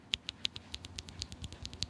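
Typing on Akko Creamy Purple linear keyboard switches, a fast, even patter of light, close keystrokes with a soft, damped character and no speech.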